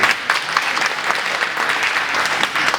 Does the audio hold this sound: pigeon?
no